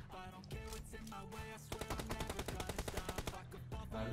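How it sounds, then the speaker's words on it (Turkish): Rapid automatic gunfire bursts from a video game play out amid a busy, tonal game soundtrack, fairly faint, with a fast regular run of shots in the middle. "Mermi sesi."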